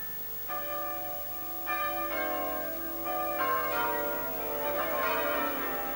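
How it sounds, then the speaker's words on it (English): Church bells peal in overlapping strokes, each new strike adding bright ringing tones over a lingering hum, celebrating an English victory over the Spanish Armada; moderately loud with no voices. "Church bells rang and bonfires blazed."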